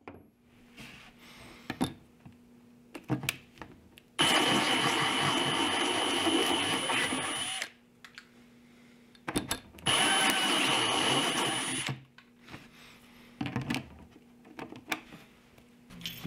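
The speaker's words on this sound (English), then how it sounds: "To increase the hole size, I use a step drill to slightly enlarge the hole." A step drill enlarges a hole in a plastic 10-gallon cooler, running in two sustained high-pitched whining bursts of a few seconds each, separated by quieter clicks and handling noises.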